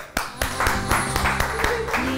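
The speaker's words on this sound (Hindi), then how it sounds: "दावत देते हैं जनाब सीधा ही इनको भरपूर तालियों में" Studio audience applauds a guest on a Pakistani television talk show: a handful of distinct, fairly close hand claps over a steady background of music or voice, lasting about two seconds.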